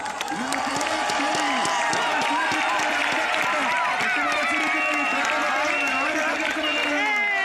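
Crowd applause and cheering to welcome the teams at a football match between Aha Friends Edappal and New Star Ponkunnam, a dense steady roar of clapping throughout with an announcer's voice over it.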